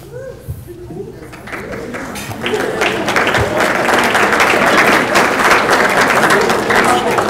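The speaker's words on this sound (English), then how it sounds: "It's okay to applaud a second time." Banquet audience at a softball awards ceremony breaking into applause, starting as scattered claps and swelling into steady, dense clapping from a crowd that holds through to the end.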